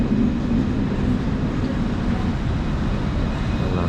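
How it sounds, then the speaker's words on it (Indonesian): An LRT train pulls into a station in Kuala Lumpur, a loud, close rumbling and rolling roar that holds steady throughout. "LRT-nya udah sampai."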